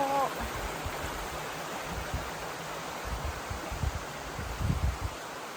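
Steady broadband rush of stream water below Tiffany Falls, a continuous outdoor flow heard up close and moderately loud, with no talk and a few slightly stronger splashing surges toward the end.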